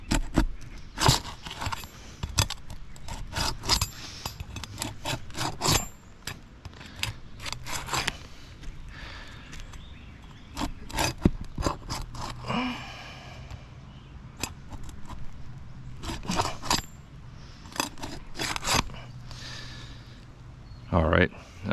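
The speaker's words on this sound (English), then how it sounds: "So first thing we're going to do is unseal these shingles." Asphalt roof shingles are pried up and unsealed by hand, making a series of sharp, close scraping snaps and crackles in irregular bursts, with a person talking in between.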